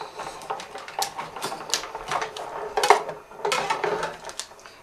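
A Cuttlebug embossing machine cranks a folder through in a series of clicking, ratcheting mechanical bursts, fairly close and moderately quiet, with no talking.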